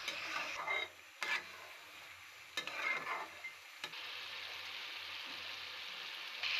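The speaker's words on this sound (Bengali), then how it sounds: "মশলা ভালো মতো কষিয়ে নিব।" Spice masala frying and being stirred in a pan for a chicken roast, a steady close sizzle broken by several scraping stirs, with no talking.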